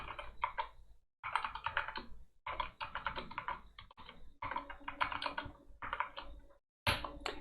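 Bursts of fast typing on a computer keyboard, close-up clicking clatter broken by brief pauses, with a final burst after a short silence.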